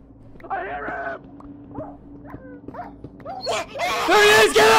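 A pet dog in a video game gives short yips and whimpers, then louder barking, under excited talk from a player.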